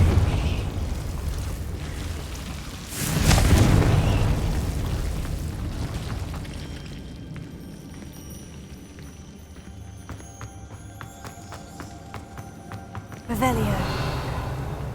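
Confringo fire spell blasts in Hogwarts Legacy, a loud fiery explosion burst early on followed by rumbling, then a second burst near the end amid ongoing game ambience.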